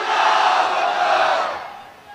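A large crowd at an election rally roars a chanted slogan back in reply to a Nara-e-Takbir call, a loud massed shout that swells briefly then fades.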